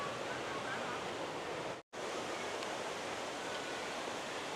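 Khlong Nam Lai waterfall in a national park in Kamphaeng Phet province pours as a steady, dense, close roar of falling water, broken by one brief dropout before resuming unchanged.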